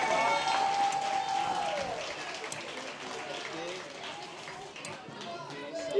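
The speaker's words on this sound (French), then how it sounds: "Et on applaudit très très fort son adversaire également" An audience at a Beyblade X tournament claps steadily in a hall, a sustained wash of applause with a voice speaking over it near the start.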